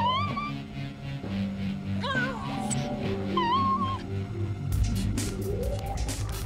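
A cartoon cat meows several times in rising and falling calls over background music and other sounds, with a louder burst near the end.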